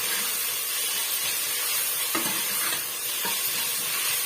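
Onions and curry leaves sauté in a hot pan with a steady, loud sizzle throughout, broken by a few soft knocks from a stirring spoon, close and with no talking.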